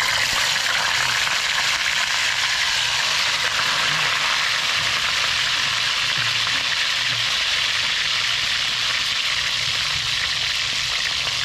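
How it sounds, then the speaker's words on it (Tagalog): Food sizzles and crackles steadily in hot oil, a dense, continuous hiss with no talking. "Prito na natin."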